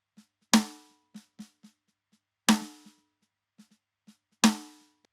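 A prog drum mix run through a punchy console EQ output model: three heavy crash-and-kick accents spaced about two seconds apart, with soft ghost strokes between them. It sounds bright and close, with no speech.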